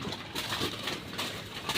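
Silver Bagha pigeons coo in a loft at a riverside home, giving a short burst of soft, low cooing close by against a rushing background noise.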